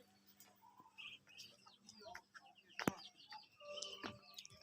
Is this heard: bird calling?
yes